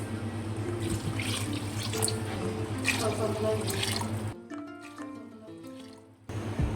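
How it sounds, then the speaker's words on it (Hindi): Water is poured into a pan of milk for suji halwa, a close, splashing gush that runs for about four seconds, then gives way to quieter trickles and drips before a short final burst. "दूध डालने के बाद हम इसमें 3 गिलास पानी ऐड करेंगे।"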